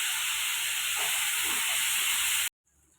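Dried chilli, cinnamon and cardamom hitting hot oil for tempering, a loud steady close hiss and sizzle that cuts off abruptly, leaving near silence.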